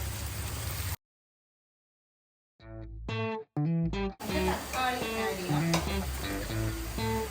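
Finely crushed onions sizzle and get stirred in a pan for a prawn curry. The hiss cuts out into a short silence, then returns alongside tonal, musical-sounding bursts layered over the frying.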